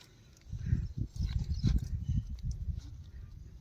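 Bullock hooves clop steadily on hard farm ground, close by and irregular in rhythm, with no voices.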